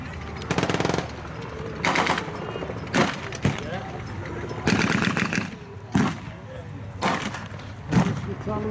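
Bursts of machine gun fire crack out in a WWII battle reenactment display at the War and Peace Revival show, several rapid volleys repeating every second or so, loud and close against a busy outdoor background.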